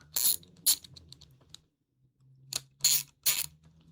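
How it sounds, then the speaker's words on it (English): An Icon 1/4 inch ratchet clicking in sharp metallic bursts, two quick clicks, a pause, then three more, close and crisp against a faint low hum. "Let's say you want to use it with this Icon ratchet, 1/4 inch, of course."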